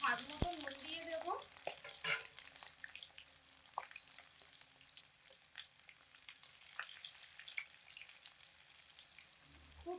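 Diced potatoes frying in hot oil in a wok, a steady broadband sizzle running throughout with a few louder clatters and stirring bumps near the start, close and moderately loud.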